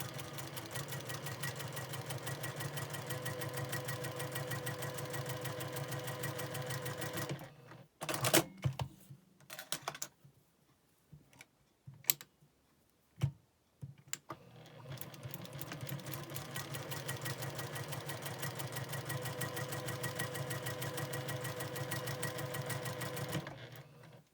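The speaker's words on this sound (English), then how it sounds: "Then you're going to sew a 1/4 inch on each side of this line." A sewing machine runs fast, stitching quarter-inch seams through fabric for a double hourglass quilt block. Steady rapid stitching stops for a few seconds of clicks and handling, then resumes at the same even pace.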